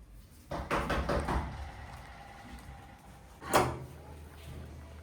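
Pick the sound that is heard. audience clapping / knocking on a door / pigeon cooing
knocking on a door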